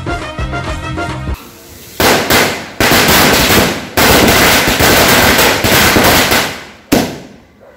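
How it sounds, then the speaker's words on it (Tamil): A long string of Diwali firecrackers bursts in rapid crackling volleys outdoors, loud and close, separated by short pauses and ending in a final sharp bang; no talking over it. "பட்டாசு வெடிஞ்சு முடிஞ்சிச்சுன்னு நினைக்கிறேன்"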